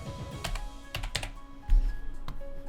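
Keys clatter in short bursts on a computer keyboard as a channel name is typed into a video editing program, crisp and close with irregular clicks and small pauses.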